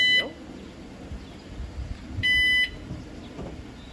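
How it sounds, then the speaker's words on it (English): Two short electronic beeps from the car alarm of a Mercedes 300CE, one at the start and another a couple of seconds later, with quiet rustling in between. "the car's just gone haywire when my dad connected the battery up with all the alarm going off"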